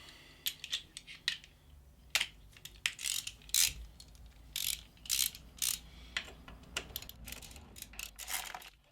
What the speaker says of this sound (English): we've got 3 T30 bolts to remove here